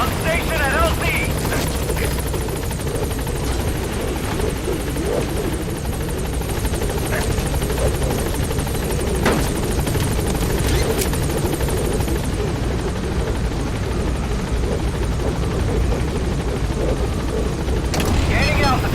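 Helicopter in the video game Metal Gear Solid V coming in to a landing zone, a loud, steady rotor chop and engine whine filling the whole stretch, with scattered clicks and bursts over it.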